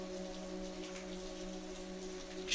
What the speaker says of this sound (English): The rain fell gently around her